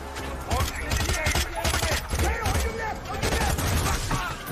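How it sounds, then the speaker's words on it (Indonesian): Rapid bursts of gunfire in a film shootout between a special forces soldier and an armed group, loud crackling volleys mixed with shouting voices and a steady low rumble. "baku tembak pun terjadi"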